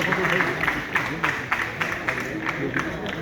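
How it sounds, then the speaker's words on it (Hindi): Steady applause from a crowd, a continuous patter of clapping with some individual claps standing out, lasting throughout. "तालियां बजती रहनी चाहिए।"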